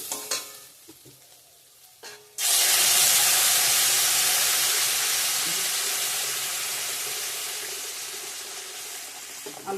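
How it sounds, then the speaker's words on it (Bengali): Hot water is poured into a pan of fried pointed gourd and potato for an egg curry. After a few soft clicks and stirring noises, it sets off a sudden loud, broad hiss that fades slowly as the sizzle settles. "ভালো করে ভাজা ভাজা কষানো হয়ে গিয়েছে গরম জল অ্যাড করে দিয়ে দেবো এখন"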